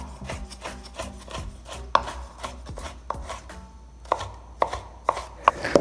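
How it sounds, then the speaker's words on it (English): A knife chops tomatoes on a cutting board in a home kitchen, a quick run of close, crisp taps with a few sharper knocks on the board, steady and uneven in rhythm, with no talking. "chopping up the actual meat of the tomato"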